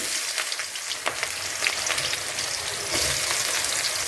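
Onions fry in hot oil for a mutton dish, giving a loud, continuous crackling sizzle with faint stirring scrapes and no voices.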